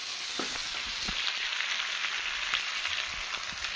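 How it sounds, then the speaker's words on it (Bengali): Hot water is poured into a curry sizzling in a pan, giving a dense, continuous hiss and crackle up close with small bubbling pops. "গরম জল ঢেলে দিলাম।"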